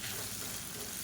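Chutney ingredients such as coriander, curry leaves and tamarind sautéing in a hot pan, giving a brief, steady, close sizzle with a soft hiss and no voices.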